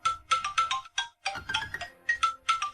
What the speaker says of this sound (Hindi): किंशुआन इस समय भी मुझे फोन करने की हिम्मत कर रहे हैं।